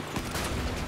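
Weapon fire from the vehicle combat game Crossout crackles in a dense, continuous burst, fairly close and moderately loud, with no voices over it.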